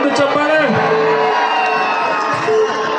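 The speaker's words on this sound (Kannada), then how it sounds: "SP ಬಾಲಸುಬ್ರಹ್ಮಣ್ಯ ಅವರಿಗೆ ಜೋರಾಗಿ ಬರ ಒಂದು ಚಪ್ಪಾಳೆ" A crowd at the Belagavi Utsav festival cheers and whoops loudly, a dense, continuous roar of voices with shouts rising out of it, close and sustained throughout.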